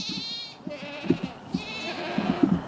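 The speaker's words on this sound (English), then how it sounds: "that's why the goat's screaming" Goat bleats and cries on a farm, several repeated calls, moderately near, mixed with other livestock noise and shuffling; no talk over them.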